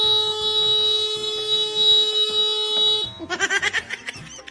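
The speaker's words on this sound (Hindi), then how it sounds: "क्यों हॉर्न बजा रहे हो?" A motorcycle horn honks in bursts, loud and sustained for about three seconds, then breaks into a quick series of short rhythmic toots.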